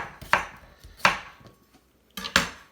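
Three sharp knife chops through cucumber on a cutting board, spaced unevenly, close and fairly loud with quiet gaps between.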